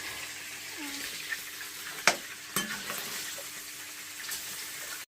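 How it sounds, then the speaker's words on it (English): Burgers frying in a pan give a steady hissing sizzle, with a couple of sharp clanks from turning them over partway through; close and fairly loud. "Have to turn the burgers and cook the both sides."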